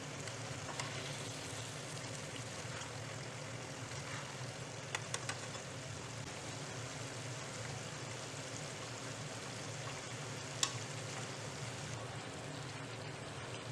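Chicken curry simmering in a pan on a low flame, a steady soft bubbling and faint sizzle that runs on continuously with a few small pops, quiet and close, with no voices.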